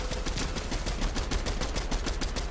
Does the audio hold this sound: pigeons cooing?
no